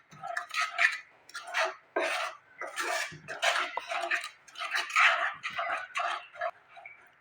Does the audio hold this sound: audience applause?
no